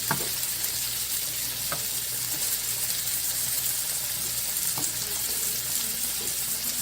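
Chicken sizzles in a skillet with a steady, close frying crackle, broken now and then by sharp clicks of stirring.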